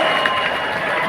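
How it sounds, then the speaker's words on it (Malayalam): A live audience at a youth meet in Palai claps together, a dense, even wash of applause held at steady loudness throughout with a faint crowd murmur beneath. "അൽഫോൻസിന് ഒരു കൈയടി."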